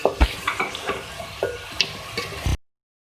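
Chopped tomatoes fry in a pan for a beef and bottle gourd curry, with light sizzling under repeated scraping and stirring strokes from a spoon, close up, then a sudden cut to silence.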